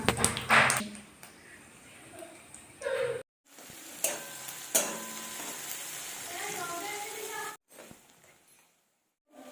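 Whole cloves, cardamom and cumin seeds hit hot oil for a homestyle jackfruit curry, crackling and sizzling close by in bursts. Stirring taps break in, and the sizzling stops for short pauses.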